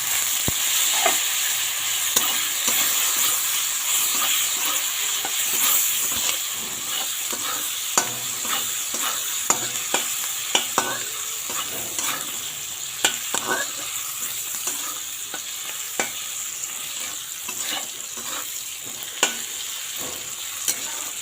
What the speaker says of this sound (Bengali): পেঁয়াজটা ভাজা ভাজা করে এর মধ্যে আমি কাঁঠালের বিচিগুলো দিয়ে দেবো